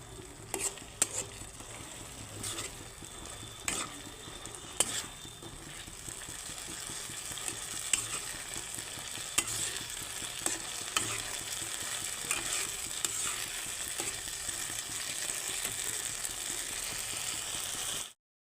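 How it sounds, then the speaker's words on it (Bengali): Chicken keema sautéing with spices and a splash of water, a continuous moderate sizzle with repeated clicks and scrapes of a spatula stirring, the sound fading out abruptly at the end. "আর সামান্য একটু জল দিয়ে দেব দিয়ে এখন কষাতে থাকবো"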